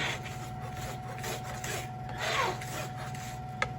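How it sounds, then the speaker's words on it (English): A knife blade's edge grinding garlic into a puree on a cutting board, giving steady close scraping and rasping strokes, fairly quiet, with one sharp tap near the end. "So I'm using the edge of my knife blade to really grind it in."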